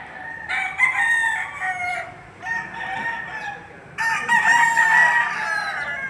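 Several fighting roosters crow one after another, loud and close, with overlapping cock-a-doodle-doo calls and a little clucking between them.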